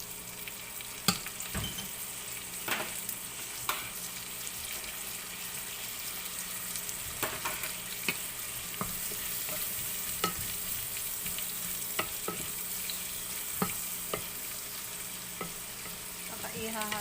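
Meat being stirred in a pan with alamang shrimp paste for Bicol Express, a steady soft sizzle of frying with repeated sharp scrapes and clinks of the spoon against the pan, close and alone.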